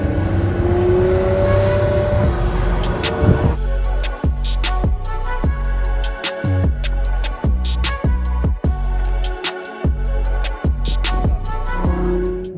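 A front-mounted, naturally aspirated 800-horsepower V12 in a rear-wheel-drive Ferrari 812 GTS revs loudly and close, in a rapid series of sharp throttle blips that each rise and fall back, with a steady idle rumble between them.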